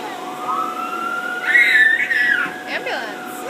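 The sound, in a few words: ambulance siren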